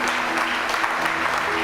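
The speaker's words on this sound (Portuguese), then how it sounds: "Então aplauda a presença dEle, em nome de Jesus." A church congregation claps together in a dense, even burst of applause that fills the whole short moment, close and steady with no speech over it.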